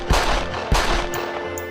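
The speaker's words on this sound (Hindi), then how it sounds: "जिससे 3 पिस्तौल से एक साथ गोली चलती है" Two sharp, loud gunshot bangs about half a second apart, ringing out over a sustained musical tone.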